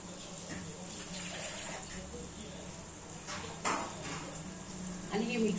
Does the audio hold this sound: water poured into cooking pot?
yes